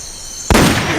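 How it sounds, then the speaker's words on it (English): A single sharp gunshot blast in the stealth game Metal Gear Solid: Peace Walker, loud and close, cutting abruptly into a quiet ambient background and trailing off in a broad rumbling decay. "Hear that gunshot?"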